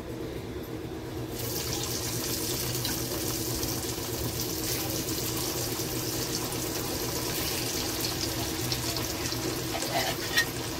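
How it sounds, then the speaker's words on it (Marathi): Alu vadi pieces deep frying in hot oil in a kadhai, a steady close hiss and bubbling that fills the whole stretch, with a faint clink near the end. "आता एक एक वड्या ह्याच्यात तळून घेते."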